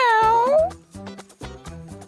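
A single drawn-out cat meow, followed by quieter rhythmic knocks and shuffling sounds.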